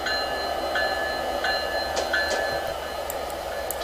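A diesel train in the game Train Simulator 2016 rolls past with a steady, loud rumble and hiss, joined by a few faint clanks and thin metallic tones.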